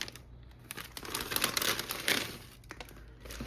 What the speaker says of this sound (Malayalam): അപ്പോൾ നമുക്കിത് അൺബോക്സ് ചെയ്ത് നോക്കാം